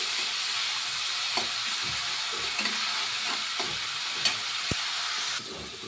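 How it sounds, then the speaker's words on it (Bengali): Onion paste fries in oil with a bay leaf, the first step of a spiced kuche fish curry. A steady close sizzle and hiss continues throughout, with occasional light stirring taps and a small drop in level near the end, and no talking. "ভাজা ভাজা করে নিচ্ছি"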